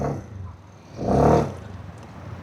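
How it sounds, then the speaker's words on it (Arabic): A petrol scooter engine idles smoothly with a steady low hum that swells briefly and then settles back. No one speaks over it. "هو كده السكوتر ده خلاص صوته ناعم جدا جدا"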